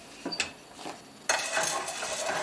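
Corn kernels being stirred with a utensil in a pot for sauced popcorn, giving a few scraping clinks at first, then a steady louder rattle and scrape of kernels against the metal.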